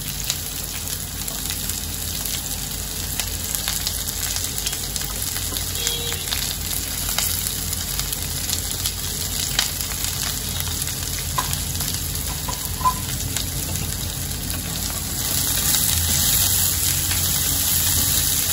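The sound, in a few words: chopped onion frying in oil for kande pohe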